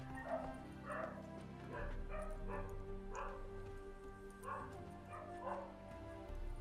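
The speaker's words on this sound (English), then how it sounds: "The fuck are dogs barking outside?" Dogs barking outside, a string of about six muffled barks and yips at a steady rhythm, faint and distant beneath a constant hum.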